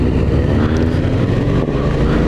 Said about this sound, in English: Oh, he's got a dope exhaust